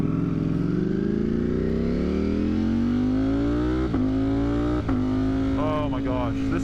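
A 200+ horsepower motorcycle fitted with a smaller front sprocket pulls off idle, its engine note rising steadily through the revs with two brief dips at gear shifts, loud and close throughout.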